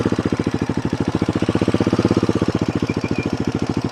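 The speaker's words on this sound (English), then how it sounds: "I'm gonna go down into first gear and roll and let go of the clutch" A motorcycle engine rolls along in first gear with the clutch let out, a steady, loud, close low-pitched pulsing idle with even rapid firing beats throughout.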